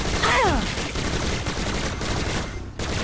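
Rapid gunfire from an alien-fighting shooter in the video game Bombshell, a dense continuous burst of shots over a roaring, busy game mix, loud and close.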